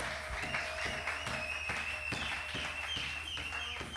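A church congregation applauds in rhythmic bursts of clapping, steady and fairly distant, with faint overlapping voices and a sustained tone beneath.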